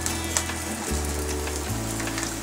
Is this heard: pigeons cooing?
no